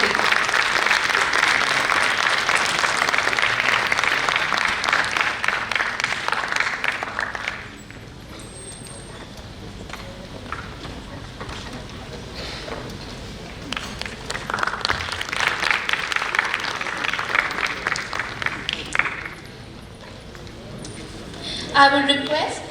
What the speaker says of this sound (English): Can we have a huge round of applause for Dr.